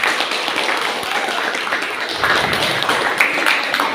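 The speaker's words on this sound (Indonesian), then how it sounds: "Tepuk tangan dulu." A classroom of students clapping their hands together, a dense, continuous patter of many claps that holds steady throughout, with no talking.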